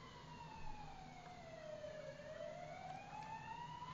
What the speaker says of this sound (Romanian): Opa, vin pompierii.